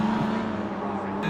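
Race car engines droning past on the Sepang North circuit in a racing game, a steady close engine tone that holds throughout, with a brief change near the end.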